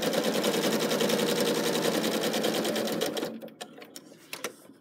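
Sewing machine stitching ribbon onto fabric runs in a rapid, even clatter of needle strokes, close and clear, then stops abruptly followed by a few faint handling clicks.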